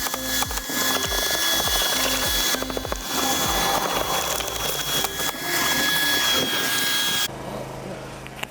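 Tornador air cleaning tool running off a compressor, blasting grime from the trunk of a dirty Mercedes C43 AMG: a loud, steady rushing hiss with rapid low pulsing throbs, cutting out near the end to a quieter hiss.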